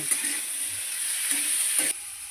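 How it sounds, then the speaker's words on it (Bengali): Flat beans with turmeric being stirred as they fry in oil, a soft steady sizzle with a few scraping stirs, moderately close, and no voices. "তেলের মধ্যে এই শিমটাকে ধুয়ে রেখেছি, শিমটাকে একটু নেড়ে নেব"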